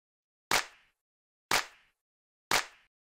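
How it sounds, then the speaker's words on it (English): Layered live-style hand clap sample for house music, struck three times at an even one-second pace, each a sharp bright crack with a short roomy tail, alone and moderately quiet. "This is a pretty standard, kind of like live style clap."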